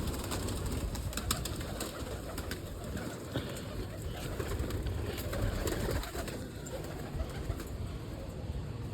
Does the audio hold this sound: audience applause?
no